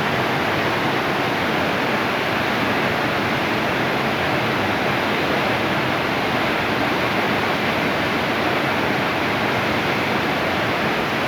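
The Gül Pınar waterfall at Darende roars close and loud, a constant, unbroken rush of falling water with no voices.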